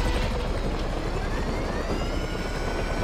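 Helicopter going down in GTA 5 Online, a dense continuous roar of rotor and engine noise that stays loud and unbroken throughout, with no speech.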